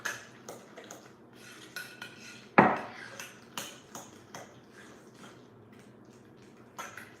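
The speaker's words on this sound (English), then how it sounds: "now, I'm gonna mix everything thoroughly" A spoon mixing brownie batter in a bowl, with scattered clinks and soft scrapes at an irregular pace and one sharper clank partway through, close and fairly quiet with no talk.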